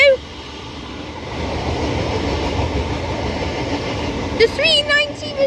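An Avanti West Coast class 807 passenger train passes through Stafford station on the West Coast Main Line, a steady rolling roar of wheels on rail with a few high squeals near the end.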